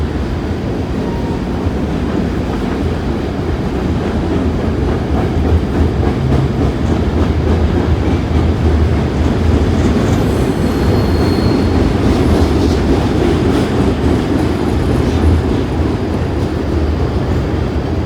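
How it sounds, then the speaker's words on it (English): A long train rolls past on the rails at night, a steady, loud, continuous rumble of wheels and cars with faint clatter and occasional high squeals, lasting throughout without talk. "It's a good train."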